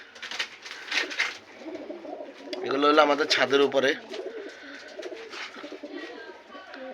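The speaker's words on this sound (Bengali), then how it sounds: "আমাদের কাছে দেখেন কি সুন্দর সুন্দর কবুতর আছে।" Pigeons in a rooftop loft coo in soft, throaty bursts, several birds close by, while a person talks over them.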